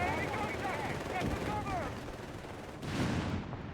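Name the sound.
machine gun firing in video game Company of Heroes 3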